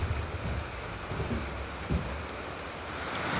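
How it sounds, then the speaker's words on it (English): Heavy rain drums steadily on a barn roof overhead, a dense loud roar with occasional low thumps and no voices. "So it really decided to start raining, so we pulled it into the barn, and now it's pretty loud"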